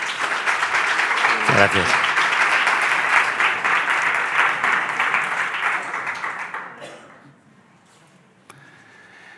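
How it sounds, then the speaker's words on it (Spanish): A live event audience claps loudly and steadily, sustained applause filling most of the stretch before fading, with a brief voice speaking over the tail end. "Un fuerte aplauso."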